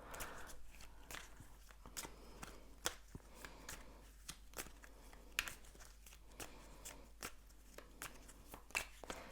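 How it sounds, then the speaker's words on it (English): A deck of archetype cards is shuffled in quiet, repeated bursts: soft riffling and tapping that recur every second or so, faint and close, with no talking. "I'm gonna shuffle some of these archetype cards"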